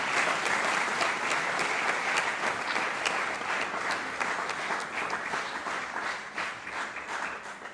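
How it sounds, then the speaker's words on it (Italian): Audience applause at a national choral competition's closing event, greeting maestro Carlo Berlese: a dense, steady wash of many hands clapping that fills the room and eases off slightly toward the end. "chiederei un applauso per il maestro Carlo Berlese"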